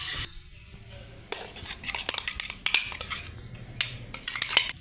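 A spoon scrapes and clinks against a blender jar and bowl as chutney paste is emptied out, with short irregular metallic scrapes and taps in quick bursts amid quieter pauses.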